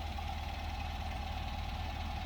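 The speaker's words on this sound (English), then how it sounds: "Okay, the car is idling" A 1967 MGB engine idles steadily with a low, even rumble and a faint mid-pitched hum during carburettor tuning, no voices, constant throughout.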